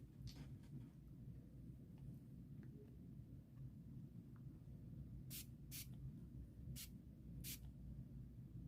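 Several brief, sharp spray bursts of dye from a spray bottle hiss out in succession over a low steady background rumble, with no talking.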